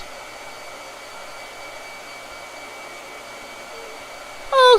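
Blow dryer drying paint on paper, a steady whirring hum of moderate loudness running throughout, with a brief louder burst at the very end.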